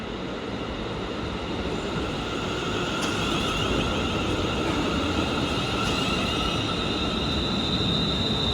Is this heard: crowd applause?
no